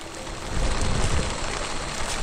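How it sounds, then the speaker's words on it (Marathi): Rain patters steadily on a surface outdoors during a monsoon trek near Matheran, Maharashtra, a continuous close hiss that swells slightly after the first half second, with no voices over it. "ह्याच्यावर पावसाचं पाणी पडून सरसर होतंय का?"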